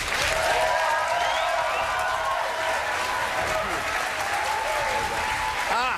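A town hall crowd applauds to welcome Secretary Julián Castro at a Democratic primary event, sustained dense clapping at full loudness throughout, with voices faintly under the roar.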